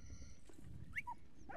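A dog in the video game Valiant Hearts gives a few short, high whimpering yelps over a low background hum, quiet and brief.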